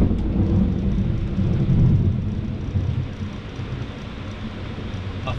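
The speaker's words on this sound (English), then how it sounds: "It's massive thunder and lightning though." Heavy thunder rolls near Cape Hillsborough on the beach, a deep rumbling that swells and then slowly fades over several seconds, with no talking.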